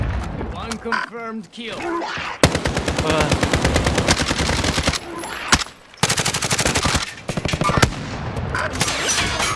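Rapid automatic gunfire in a Call of Duty match, long loud bursts of machine-gun fire broken by brief pauses, with a few single shots around them.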